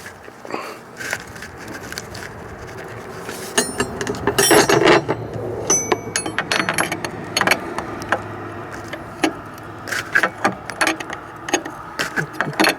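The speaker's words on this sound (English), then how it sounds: "Can't really get a wrench on the big part, so I'm using the wrench on the sensor to actually snug it down." A wrench snugs a fitting down on a sensor of a Cummins ISX engine, producing scattered metallic clicks, clanks and ratchety taps close by, alone without talk.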